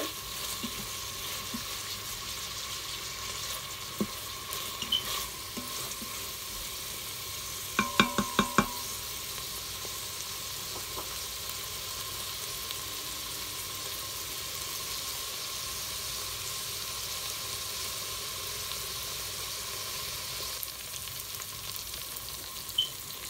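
Onion and bell pepper fry in a pan for a Jaffna-style shrimp and pumpkin curry, giving a steady, even sizzle throughout, with a short burst of utensil clatter near the middle.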